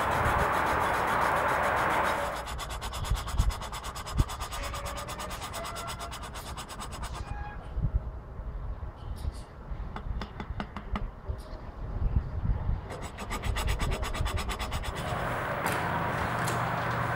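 An engine valve is lapped by hand against its seat, making a rapid, rhythmic gritty rubbing and scraping. It is close and continuous, with a quieter stretch in the middle before the rubbing picks up again.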